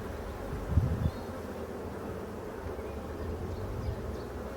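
Nervous honeybees at an open, very populous hive hum in a steady close buzz, with a brief louder knock near the start and faint background noise.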